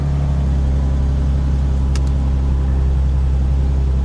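A 2017 BMW M3 at a salvage auction idles steadily with a loud, constant low rumble, bent exhaust and service engine soon light noted, a brief faint click partway through.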